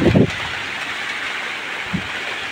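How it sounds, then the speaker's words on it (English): Steady rain falls at an off-grid homestead, a constant broadband hiss filling the whole stretch, with a couple of brief low thumps near the start and one more toward the end. "It's raining"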